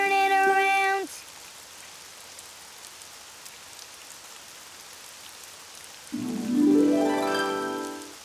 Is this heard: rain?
yes